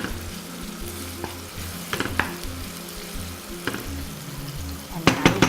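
Chopped tomatoes and onions sizzle and fry in a pan while being stirred, with a steady low crackle broken by occasional scraping clicks of the utensil against the pan, louder near the end.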